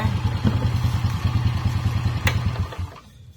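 A Suzuki Shogun 110 motorcycle engine, recently cleaned after stalling, idles with a steady low putter close by, then is switched off and dies away.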